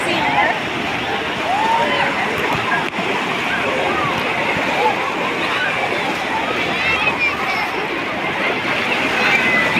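Continuous churning and sloshing of waves in a water park wave pool at Magic City in Suzano, a steady loud wash of water with no pauses.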